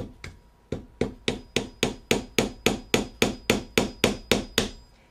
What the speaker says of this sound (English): put the nail in, and there's a nice hammer called a lasting hammer